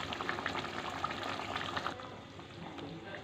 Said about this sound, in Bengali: ঝোলটা ফুটুক।